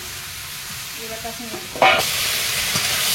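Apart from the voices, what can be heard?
frying pointed gourd, potato and shrimp in spices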